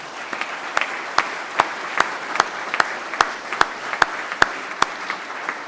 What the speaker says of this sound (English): I'd just like to give them an applause